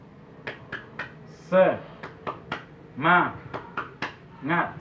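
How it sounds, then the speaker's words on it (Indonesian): Women in a community welfare group meeting do a patterned spirit clap: sharp, close hand claps in an irregular rhythm, alternating with short chanted voices. "Kita kasih juga semangat ataupun aplaus kepada Bu Dewi dengan tepuk semangat"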